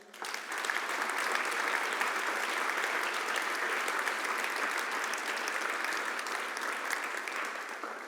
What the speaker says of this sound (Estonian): Aplaus ka neile.